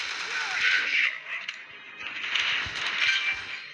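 Bursts of gunfire and sharp cracks from a war video game, repeating in clusters across the clip with game sound effects around them and a voice speaking during play.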